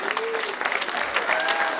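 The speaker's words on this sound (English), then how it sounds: "Let's give her a round of applause too for their leadership in that." A graduation ceremony audience applauds continuously, dense even clapping close and loud with a faint voice briefly audible in the mix.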